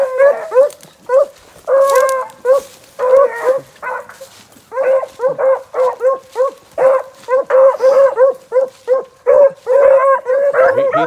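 Hunting dogs, including a young female pup, bay and yip repeatedly while running a track outdoors, loud bursts in a steady, uneven rhythm close by.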